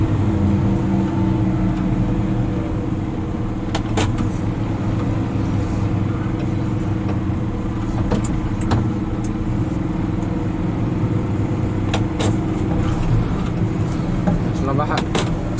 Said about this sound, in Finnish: Sähäkästi tuossa painoin kaasu.